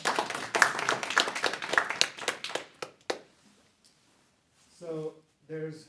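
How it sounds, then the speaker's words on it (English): Audience applause for a participant named Luis at a charisma talk in the Oakland Public Library, a burst of clapping lasting about three seconds that fades out, followed by a speaking voice. "So everyone give Luis a round of applause."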